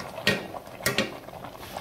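Vegetables being mixed in a metal cooking pot, a few clanking, scraping utensil strokes close by, in irregular bursts.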